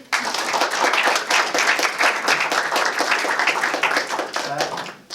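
An audience gives sustained applause for Verica, the speaker's wife, at a gathering, a dense, steady wash of many hands clapping that holds for several seconds before tapering off.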